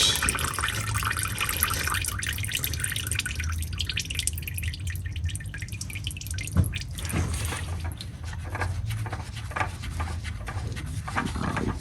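Motor oil drains from a removed oil filter on an Acura MDX during a synthetic oil change, a steady close dripping and trickling of liquid that runs throughout with no talking.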